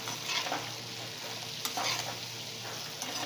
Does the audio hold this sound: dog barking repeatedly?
no